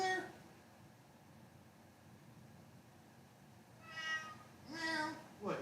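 A pet cat meows a couple of times near the end, short clear calls over a quiet room.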